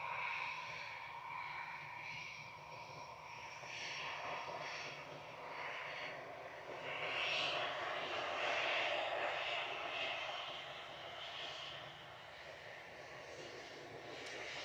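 EasyJet Airbus A320 Classic jet airliner at Manchester Airport, a steady broadband engine roar that swells and fades slightly throughout, heard from a moderate distance with no talk.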